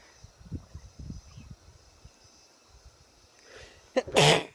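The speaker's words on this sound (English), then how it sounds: "The sun makes me sneeze." On a ridge walk in northern Thailand, after some low, faint murmuring, a single sharp sun-triggered sneeze bursts out loud and close near the end.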